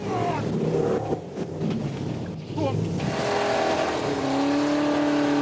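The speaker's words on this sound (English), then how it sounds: "the power-crazy Yorkshiremen installed a second V8 engine to give them four-wheel drive and power them up the hill" A scrap-built twin-V8 four-wheel-drive vehicle climbs a muddy hill, its engines revving and rising in pitch, loud and close, with a narrator speaking over part of it.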